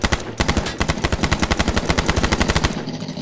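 Rapid automatic gunfire in a video game, a dense stream of sharp evenly spaced shots close and loud for several seconds, with no talk over it.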